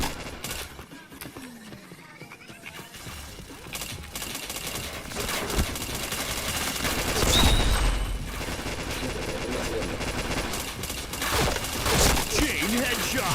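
Gunfire in a shooting video game, rapid bursts and scattered shots over a busy game soundscape, with people talking now and then in the background.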